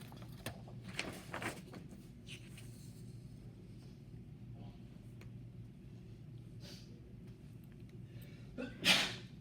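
A single sharp sneeze bursts out near the end, following a stretch of quiet room tone with faint breathing and shuffling.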